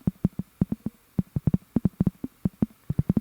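A short sine-wave synth arpeggiated and driven by an LFO in Ableton Live plays quick, slightly uneven plucked pulses on one low pitch, quiet and alone.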